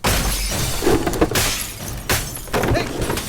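Glass smashes in a Tamil film scene, two or three loud crashing breaks with scattering shards, close and harsh, under a busy, noisy background.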